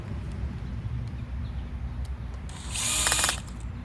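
A Phillips screwdriver tightening screws while assembling a multistage pump: a brief, bright ratcheting burst near the end over a steady low background hum.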